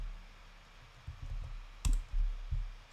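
A computer keyboard being typed on in short, sparse bursts: a few distinct close clicks and taps over a low room hum, with no talking.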